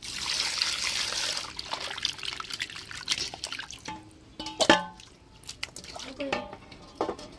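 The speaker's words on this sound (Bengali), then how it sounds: "এবারে এই মাংসের মধ্যে আর একটু জল দিয়ে ধুয়ে নিব।" Water poured and splashed over raw meat in a bowl for rinsing after lemon marinating, with trickling and dripping sounds, close and moderately loud.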